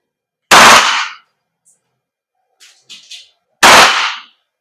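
A WE M4RIS airsoft gas blowback rifle fires two loud, sharp bursts about three seconds apart, each a single harsh blast, with faint mechanical clicks between them.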